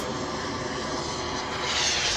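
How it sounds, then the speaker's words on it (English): An RC model jet descends to land at the Joe Nall 2024 radio-control aviation event, a steady, distant jet-engine roar that swells slightly toward the end, with no voices. "There's a jet coming down."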